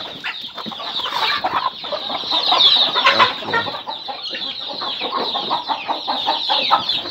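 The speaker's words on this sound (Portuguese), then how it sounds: "essa galinha branca aqui" Chickens cluck busily and continuously, with a rooster's calls mixed in, close and fairly loud with no talking.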